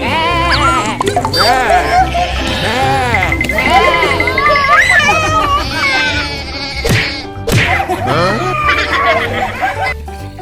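Bleating sheep-like cries, wavering and repeated, mixed with children's voices and playful chatter close by.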